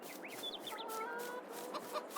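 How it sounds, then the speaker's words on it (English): Chickens on a large poultry farm in Farming Simulator 22 cluck and chirp steadily in a soft, moderately distant chorus of short rising calls, with no talk. "Yeah, we have 500 chickens."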